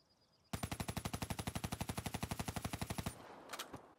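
Kuda SMG from Black Ops 3, fitted with a foregrip, fires one sustained automatic burst of about twenty-five rapid, evenly spaced shots lasting roughly two and a half seconds, followed by a brief mechanical clatter.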